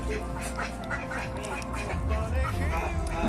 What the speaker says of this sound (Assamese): হাঁহ চাউণ্ডটো শুনিছেনে আপোনালোকে